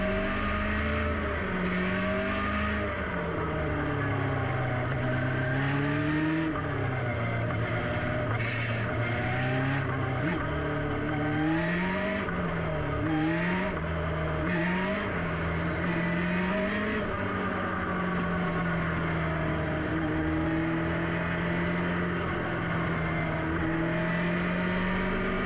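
Legend race cars rolling on a formation lap before the start, engines droning steadily up close with repeated rising and falling revs and gear changes, a constant loud motor hum throughout without any talking.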